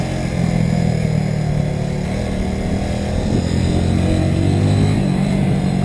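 A 2020 Kawasaki W175 SE motorcycle held in first gear on a riding course, its steady single-cylinder engine drone loud and close throughout with slight rises and falls in pitch, no talking.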